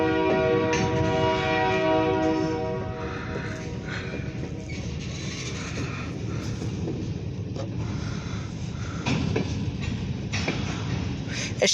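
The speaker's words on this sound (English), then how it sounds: "We got a train coming." A freight train on the OC&T line approaches Rynd Farm Station, its layered horn sounding loud and steady for about two seconds over a continuous rail rumble that carries on evenly afterward.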